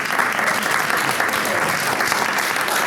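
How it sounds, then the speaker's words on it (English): Audience applause at a community college gathering, a loud, dense and steady wash of many hands clapping from start to finish, with no voices standing out. "We need to give a round of applause."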